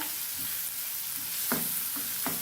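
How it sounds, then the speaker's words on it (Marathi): Chopped onion sautéing in hot oil in a pan, a steady sizzle running throughout while a spoon stirs it in a few distinct scraping strokes toward the end, close and moderately loud. "कांदा छान आपल्याला परतून घ्यायचा आहे छान हलवून घ्यायचा आहे"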